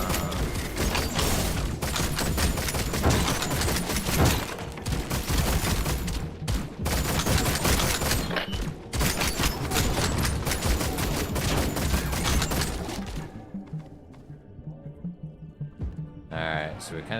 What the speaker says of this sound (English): Alright, we're gonna try and toss some turrets down.